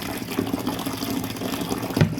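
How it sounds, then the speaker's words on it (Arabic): Calamari being rinsed under a running kitchen tap, a steady splashing gush of water with small bumps and handling sounds, close and moderately loud with no talk. "هنشطفه بقى مره واتنين وتلاته تحت الميه"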